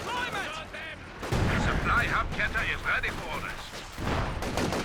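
Artillery barrage in the video game Company of Heroes 2, heavy rumbling blasts and crackling fire building to a sustained roar, with someone talking over the top.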